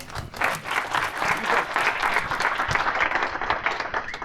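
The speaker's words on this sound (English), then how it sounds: "Round of applause." Sustained audience applause at a startup pitch session, steady and fairly loud dense clapping from a room of people throughout, with no talking over it.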